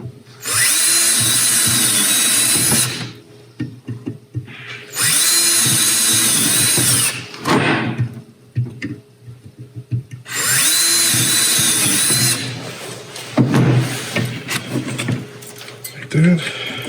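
A power drill whines through wood in three long bursts separated by short pauses, close and loud, with a person talking during the gaps.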